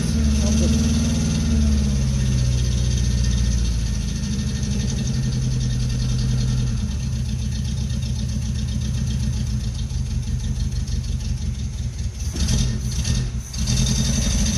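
An old car engine with a vacuum leak idles roughly and loudly up close, a steady low rumble with slight unevenness and a few brief revs near the end.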